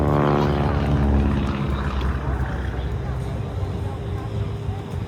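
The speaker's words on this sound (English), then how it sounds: "you don't ever hear any throttle changes or changes in the motor noise because he flies it at a set airspeed and a set throttle setting" A stunt plane at a beach air show drones overhead at a steady throttle, loud at first and then easing into a more distant, even hum. Speech or crowd noise runs underneath.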